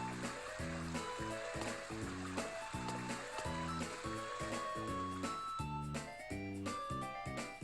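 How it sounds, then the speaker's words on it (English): Gentle rushing river water in the farming video game Story of Seasons, a steady soft flow under light melodic game music with plucked tones. "isn't it relaxing to sit and listen to the quiet rush of the water?"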